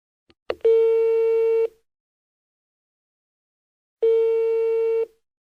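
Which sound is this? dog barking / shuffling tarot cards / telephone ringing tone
telephone ringing tone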